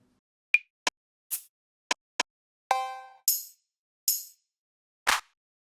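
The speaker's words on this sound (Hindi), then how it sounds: "एक छोटा सा चुटकी का आवाज़ चाहिए" A string of separate finger snaps, about nine sharp, dry clicks with silence between them. Some of the snaps ring or buzz briefly, and a few are brighter and hissier.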